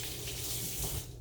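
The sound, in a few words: running water from a tap while washing hands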